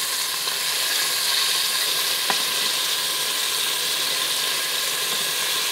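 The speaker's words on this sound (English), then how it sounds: "You just want to sear it for 2 minutes on like 2 sides." Pork sears in a hot pan with a steady, dense sizzle that holds evenly throughout, close by, broken once by a brief faint click.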